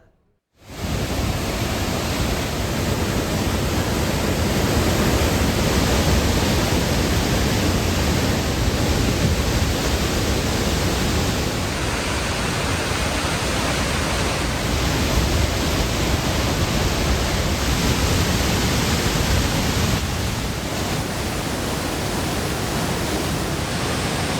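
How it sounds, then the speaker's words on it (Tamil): The flooded Thirparappu waterfall sends out a loud, unbroken roar of rushing water. After a brief moment of silence it starts abruptly and holds steady for over twenty seconds, with no voices. "திருப்பரப்பு அருவியில் வெள்ளப்பெருக்கு ஏற்பட்டுள்ளதால்"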